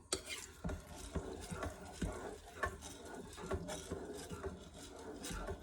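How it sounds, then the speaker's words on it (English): Repeated scraping and knocking of a spoon stirring rice with a little water in a pot, steady and close, with irregular clatters throughout and no one talking. "Let's stir that up really well."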